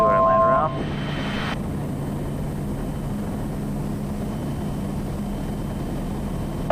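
A Zodiak light aircraft's engine drones steadily on landing approach while flying low over the islands of Papua New Guinea, a loud continuous cockpit roar from start to end.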